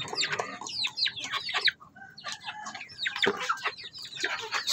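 Black Shamo Asil chickens cluck and chatter in short, busy bursts at close to moderate range in an outdoor farm setting, with a brief lull in the middle.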